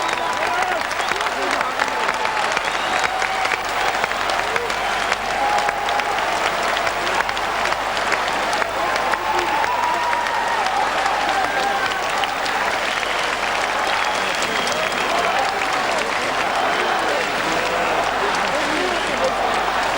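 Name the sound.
thunderous applause from a judo championship crowd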